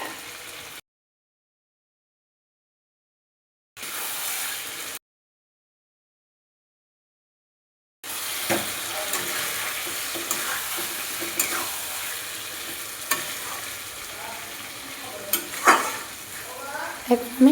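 Marinated chicken added to a pan of cooked-down spices and frying, a steady close sizzle with stirring scrapes and clinks that begins after two silent gaps and carries on to the end.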